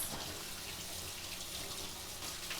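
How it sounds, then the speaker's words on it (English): Running tap water splashing into a sink while hands are washed in a home kitchen, a steady soft hiss and patter that stays constant and faint throughout, with no talking. "Wash up our hands."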